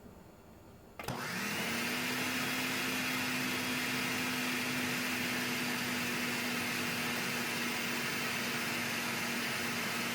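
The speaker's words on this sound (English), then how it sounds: "Okay, and now you blend it." A blender switches on after a second and runs steadily, mixing a coconut ice mixture for limber de coco, a loud, even motor whir with a sustained whining hum that holds to the end without pause.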